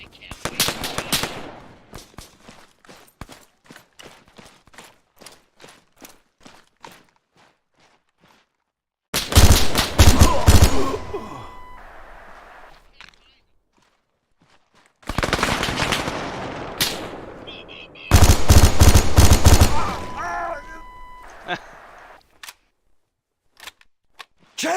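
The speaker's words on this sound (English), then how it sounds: "Give me some covering fire! Frag out! Open fire, Marines!" Automatic gunfire from Marines in the shooter game ArmA 3: loud, rapid bursts of rifle fire in long sustained volleys, separated by quieter stretches of scattered single shots and gaps of near silence.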